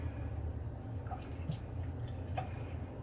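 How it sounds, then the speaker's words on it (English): Tap water runs from a faucet at a sink while a hair treatment is being mixed, a steady watery stream with a few drips and splashes over a low constant background. "So we're going to turn on our water."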